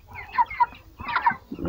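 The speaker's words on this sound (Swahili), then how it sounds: "Unaweza ukaona kuku kama hilo." Broiler chickens cluck in short, nasal bursts: two sharp calls early on, then a denser burst of overlapping clucks from several birds close by.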